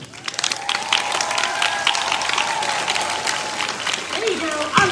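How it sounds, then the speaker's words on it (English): Audience applause fills a commencement ceremony hall, a steady wash of many hands clapping with some cheering, sustained and fairly loud throughout, with a voice briefly audible near the end. "I love that emphatic clap."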